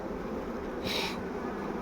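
Honey bees buzz steadily around an opened hive during feeding, a continuous droning hum with a brief louder swell as a bee passes close, with no talking.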